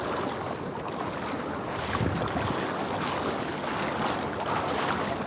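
A small boat crosses a river at night on a fishing trip in the Philippines, giving a steady rush of water and wind buffeting the microphone, with no voices.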